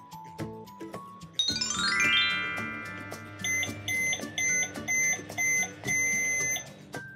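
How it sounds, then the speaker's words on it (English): A microwave oven loaded with candies gives a bright chiming electronic tone, then a run of five evenly spaced beeps, fairly close and loud, with no talking. "And we'll set you off in our microwave."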